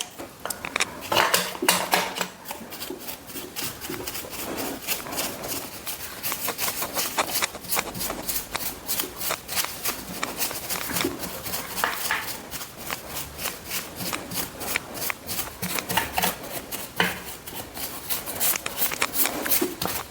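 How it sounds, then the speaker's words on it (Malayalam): A toothbrush scrubbing dust off a sewing machine makes quick, dense, scratchy bristle strokes in a steady repetitive rhythm. The sound is close and fairly loud and runs continuously with no talking. "ടൂത്ത് ബ്രഷ് ഇത് എടുത്ത് നമുക്ക് ആദ്യം ഇതിൻ്റെ എല്ലാം പൊടിയൊന്ന് കളയാം"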